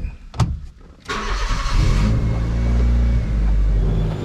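Honda D16 turbo engine cranks briefly, then catches and settles into a loud, steady rumbling idle close by.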